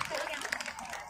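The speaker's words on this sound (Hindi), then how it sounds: "तो जोरदार तालियों से स्वागत करें हमारे इन कलाकारों का" Audience at the Johar Mahotsav 2023 in Haldwani clapping to welcome stage performers, a brief burst of dense, fairly close applause with scattered sharp claps.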